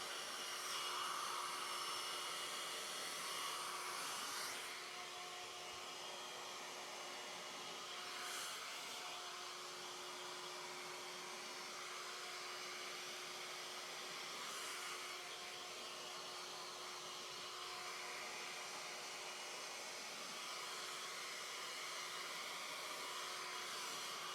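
A hair dryer blows over wet acrylic paint in a bloom pour, its steady airy roar running unbroken for over twenty seconds at moderate level.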